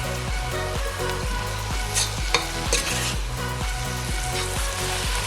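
Spices sizzling in oil in a pan for vegetable rice, stirred with a regular scraping rhythm over a steady fry, with a couple of louder clacks against the pan near the middle.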